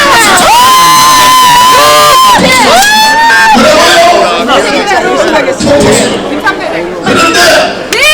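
A dense crowd cheers and chatters at an outdoor election campaign rally for a Gyeongbuk governor candidate in Goryeong, with loud, continuous voices and shouts blending with amplified speech.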